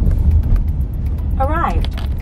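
A car pulling up at its destination, with a low, rumbling engine and road noise throughout and someone speaking briefly in the middle.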